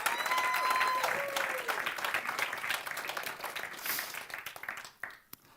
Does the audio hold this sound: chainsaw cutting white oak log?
no